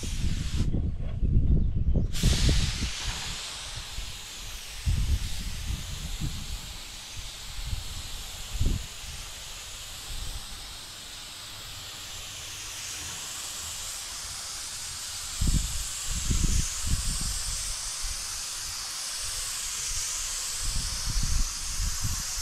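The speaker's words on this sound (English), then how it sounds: "spray some of this on the back of the cab" Bursts of spray-can hiss come in short and longer sprays on the back of a 1969 International Harvester truck cab, with soft rustling and handling noises between them.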